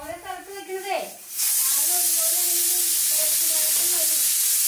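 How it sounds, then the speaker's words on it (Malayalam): A kitchen pressure cooker cooking sambar bursts into a loud, steady hiss of escaping steam that holds to the end, with a voice speaking over the start and continuing faintly under the rush of steam. "ഈ കുക്കർ ഒരു വീസിൽ അടിച്ചാൽ മതിയാ"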